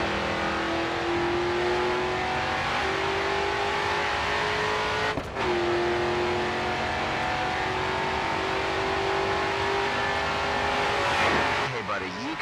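Race car engine at full throttle in the racing game Grid 2, a loud, sustained high-revving whine with rising pitch through gear changes, a brief shift break mid-run and tire noise near the end; a voice talks under it.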